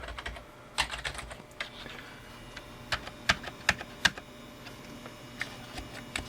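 Someone types on a PC keyboard with irregular clicks, some sharper key strikes clustered in a burst, heard up close at moderate volume without talking.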